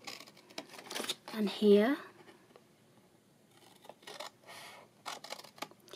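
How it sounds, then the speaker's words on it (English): Scissors snip through paper while an Easter treat box is being made, a few short close cuts around a brief spoken phrase, followed by soft rustling of the paper. "Now what we're going to do is just snip down here"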